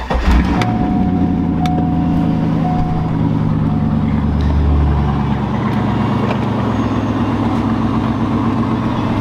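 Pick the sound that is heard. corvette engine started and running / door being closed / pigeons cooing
corvette engine started and running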